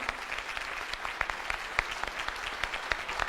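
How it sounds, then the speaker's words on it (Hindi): An audience at a Hindi motivational seminar on network marketing applauds steadily, a dense, continuous wash of many hands with scattered sharper claps standing out, sustained at an even level throughout. "एक बार जोरदार ताली बजा दीजिए"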